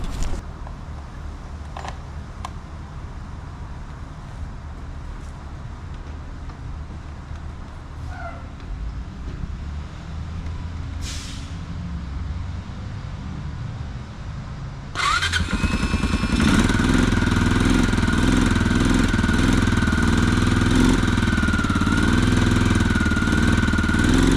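A quad ATV engine cranks and sputters at low level, then fires up abruptly and settles into a loud, steady, close idle that runs on to the end.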